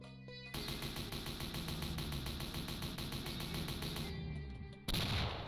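Rapid, steady volley of spike gun shots in the Doom mod Golden Souls, a dense mechanical stream of repeated firing for several seconds, then a brief pause and a loud burst at the end.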